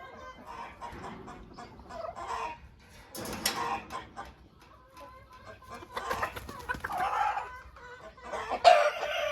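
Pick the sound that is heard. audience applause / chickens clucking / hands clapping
chickens clucking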